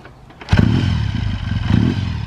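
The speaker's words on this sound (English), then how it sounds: "Okay, cold start on the Triumph." A 1962 Triumph 5TA Speed Twin 500 motorcycle starting from cold: a short quiet lead-in, then a loud clattering catch and a rough, pulsing idle with a second surge of revs, close up.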